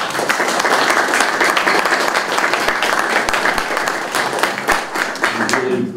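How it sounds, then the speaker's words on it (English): An audience applauds at the close of a diplomacy and security panel discussion, sustained loud clapping from a large room for the full stretch, with no voices over it. "I'd like to ask for a round of applause for us"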